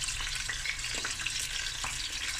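Snoek fish frying in a pan, a steady, bright sizzle of hot oil with small crackles and pops, close and continuous, with no voices.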